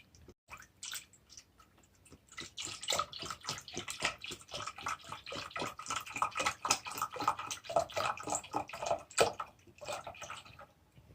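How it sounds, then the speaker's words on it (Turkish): One litre of milk is poured into a container, giving a continuous close liquid splashing and gurgling stream with small clicks and drips over about ten seconds, fairly quiet and with no voices. "İlk olarak 1 litre sütü şöyle dirince bir kaba döküyorum."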